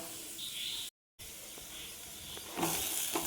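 Chili powder, fenugreek powder and asafoetida stirred in a hot pan over a low flame for a pickle, giving a steady, soft sizzle with a few light scraping ticks and a brief cut in the sound partway through.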